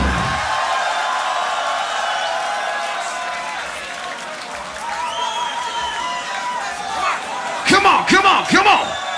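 A crowd at the Grand Beatbox Battle 2019 applauds and cheers in a sustained wash of noise, ending in a burst of loud, rhythmic yells near the close.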